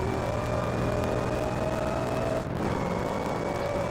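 A supercharged car engine in Forza Horizon 5 holds a steady, droning rev with a high whine on top. It stays loud and continuous, with a brief dip midway, and no one talks over it.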